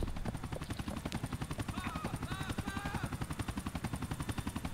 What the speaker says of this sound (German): Der Helikopter landet